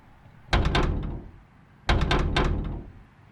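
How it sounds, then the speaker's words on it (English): A door in an abandoned building is tried and rattled twice. Each attempt is a close burst of quick, clunky knocks and rattles that fades out. "Try opening the door."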